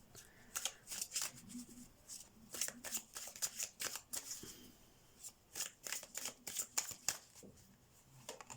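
Tarot cards are shuffled by hand in a quiet room, a run of quick, close riffling and flicking bursts in an uneven rhythm with brief pauses between them.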